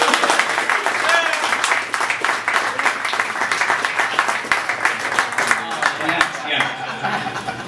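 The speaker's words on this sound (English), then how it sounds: "give him a round of applause for that" Audience applause fills a room at a proclamation ceremony for a light welterweight boxing champion, dense sustained clapping with scattered chuckles and crowd chatter throughout.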